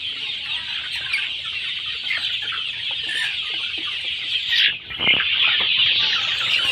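Broiler chickens about six weeks old clucking together in a farm shed, a dense, continuous chorus of overlapping clucks heard close and fairly loud with no talk.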